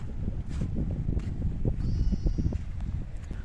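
A sheep bleats once, briefly and at a moderate distance, over steady wind and flowing-water rumble on a small island in West Bengal.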